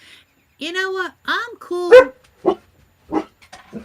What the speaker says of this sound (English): I believe it is a dog in a car across the street.